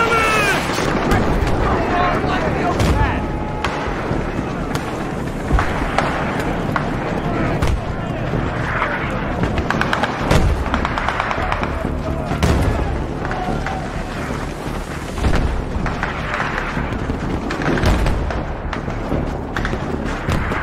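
Mortar rounds and gunfire crack and boom repeatedly in Battlefield 3, a dense, chaotic barrage of sharp reports and thuds heard under shouted voices throughout.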